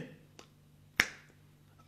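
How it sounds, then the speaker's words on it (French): Finger snaps, a few sharp isolated clicks spaced through a quiet stretch, with the loudest near the middle and another at the end. "claquement de doigts comme ça"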